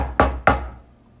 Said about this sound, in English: just as I pick up my fork, I hear a knock at the door